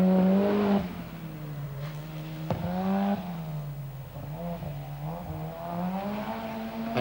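A rally car at the Lurgan Park Rally revs hard up close, its engine note rising and falling through gear changes with a sharp blip partway through, loud and alone without talk.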